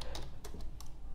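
Quick bursts of computer keyboard typing on a Kali Linux machine, a handful of close, crisp key clicks in an uneven rhythm against a quiet background.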